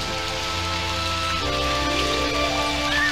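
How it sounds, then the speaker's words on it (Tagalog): Steady rain falls in a drama scene, a continuous soft hiss that holds at an even level under sustained musical tones. "Malamang matagal kasi ang ulan."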